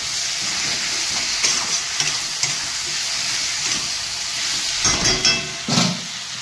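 Spices and green peas frying in a pan for a singi fish and cauliflower curry make a loud, steady sizzle, broken by a few scraping stirs and bursts of spattering near the end, with nobody talking.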